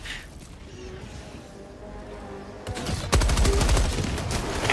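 A turret opens fire in the shooter game Helldivers 2, a rapid string of loud mechanical gunshots bursting in after a quieter stretch of low rumble, continuing densely to the end.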